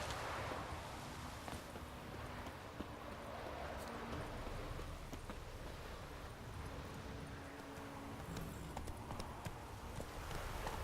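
Roach, the horse in The Witcher 3, gallops with fast rhythmic hoofbeats under a steady game ambience, moderately close and continuous.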